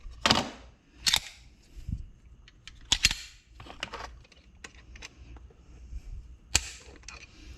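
Pistol triggers on a CZ Shadow 2 SA and a spring-kitted Walther Q5 Match SF click sharply during trigger pull weight tests, several crisp snaps spaced irregularly amid light handling noise.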